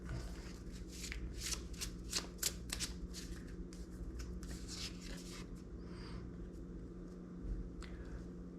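Tarot cards shuffled by hand in a quiet room, a rapid series of crisp riffling and slapping snaps, then softer sliding as a card is drawn, close and clear with no talking.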